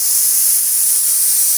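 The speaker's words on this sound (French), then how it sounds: "On va maintenant pulser la vapeur." A Laurastar Smart professional steam iron with a 3D soleplate releases a loud, steady hiss of fine dry steam, heard close up for a second and a half with no talking.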